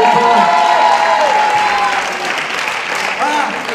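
Dense crowd applause at a French television show, a loud steady wash of clapping with voices talking and calling out over it, easing slightly toward the end.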